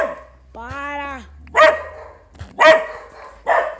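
A Minecraft dog gives a high whining whimper, then three sharp, loud barks spaced about a second apart, close and clear.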